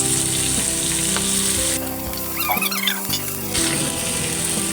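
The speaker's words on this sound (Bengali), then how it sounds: "একটু বাটারও দিয়ে দিলাম। এইবার আমি পেঁয়াজ দিয়েছি, পেঁয়াজ আর ক্যাপসিকাম" Onion and capsicum frying in butter for a beef sizzling dish, a loud continuous sizzle that briefly dips while a few scrapes and clinks of stirring come through, close up.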